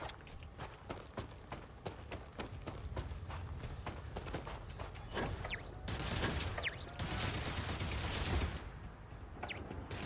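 Automated turrets in the video game Starfield fire in rapid bursts of sharp gunshots, a dense fusillade of repeated cracks running nearly continuously across the clip, loud and close, with occasional louder swells of combat noise.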